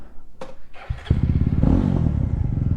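A motorcycle engine clatters and thumps, then catches and settles into a throbbing idle that revs slightly, loud and close.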